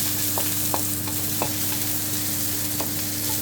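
Garlic and ginger sizzle in a thin layer of oil in a wok for Filipino-style chicken curry, a steady bright frying hiss with a few light clicks of a spatula stirring, close and without talk.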